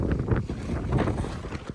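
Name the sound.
wind gust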